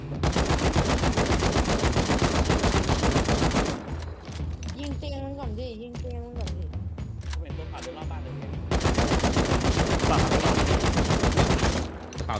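AK rifle fire in the survival video game Rust, with loud rapid automatic bursts at the start and again toward the end, and a quieter stretch of voices talking in between.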